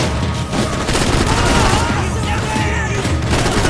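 Rapid bursts of gunfire from the video game Max Payne 3 come loud and dense, forming a continuous fusillade of overlapping shots and impacts with little pause between them.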